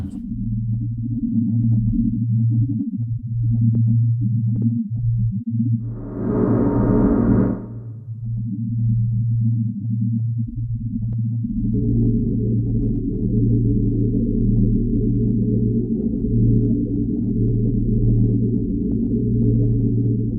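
Sustained low, hollow drone from a spectrally filtered gong sample, with a steady tonal hum, a brief brighter swell near the middle, then a thickened continuous tone to the end.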